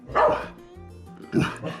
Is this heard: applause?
no